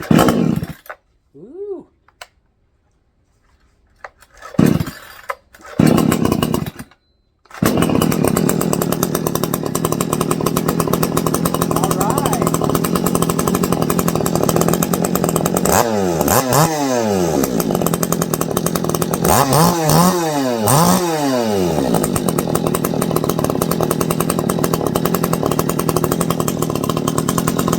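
A Vevor 58cc gas chainsaw, brand new and fitted without bar and chain, is pull-started after a few sputtering tugs, then roars loudly and steadily with several sharp throttle revs near the end, while a voice briefly exclaims.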